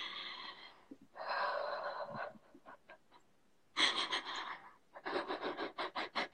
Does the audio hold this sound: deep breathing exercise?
yes